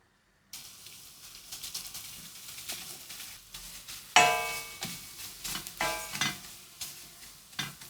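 Pecorino breadcrumbs toast in olive oil in a pan, a soft close sizzle broken by repeated scraping stirs and one sharper metallic clatter midway.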